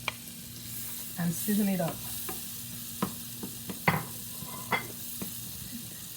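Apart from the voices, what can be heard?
diced onion and garlic frying in melted butter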